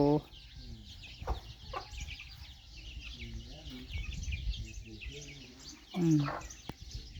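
Lao native chickens cluck in a run of short calls in rural Laos, with louder bursts at the start and near the end, and faint voices and farmyard noise behind them.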